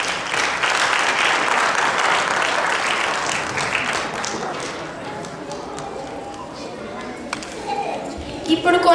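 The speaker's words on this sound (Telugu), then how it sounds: "అందరూ ఒకసారి చప్పట్లు." Audience applause at a Telugu community cultural program, a dense wash of clapping that stays steady and loud before thinning toward the end, with a few louder individual claps near the close.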